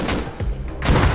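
Rockets fire in the survival game Rust as a rapid pair of loud, close booming blasts, heavy and punchy, with a brief gap between them.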